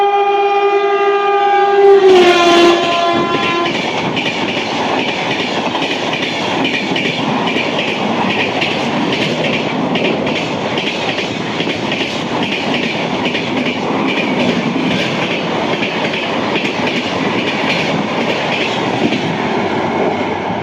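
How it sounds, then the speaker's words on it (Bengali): SJS Express train speeding through Pandua station, opening with a loud horn blast and then a long, steady roar of wheels and carriages rushing past close by. "SJS এক্সপ্রেস বেরিয়ে গেল পান্ডুয়া ছেড়ে।"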